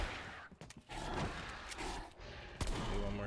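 Gunfire in Call of Duty Zombies on the Firebase Z map, several loud shots and bursts cracking over continuous game noise and clatter.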